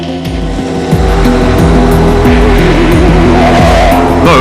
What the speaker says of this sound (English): A mass start for the cars.